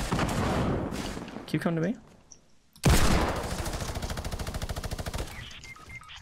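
Rapid automatic gunfire from the Fortnite video game, loud bursts and clattering shots around a brief pause, with players talking over the action.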